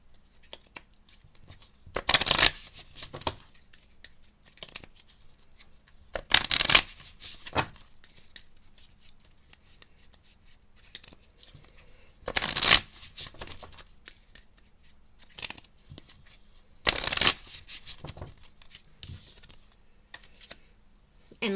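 Bursts of crisp riffling and clattering come at intervals, several quick shuffles of a deck of tarot cards between quieter stretches of soft handling noise.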